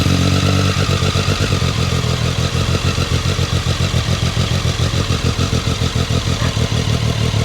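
Triumph Street Triple with an Arrow slip-on exhaust runs loud and close, a steady rapid pulsing engine note with a dense low rumble held throughout and no clear blip.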